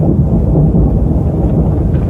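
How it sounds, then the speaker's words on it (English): Heavy, dense rain with low rumbling thunder, loud and continuous throughout with no pauses or voices. "I hear the sound of an abundance of rain."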